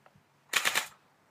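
An M83 B2 M4 replica airsoft gun fires its last rounds as a quick burst of about four sharp, close snaps in under half a second, preceded by a couple of faint clicks.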